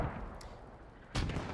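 Quiet WWII video-game battlefield rumble, then one distant artillery boom near the end, low and muffled, with a faint high ping early on.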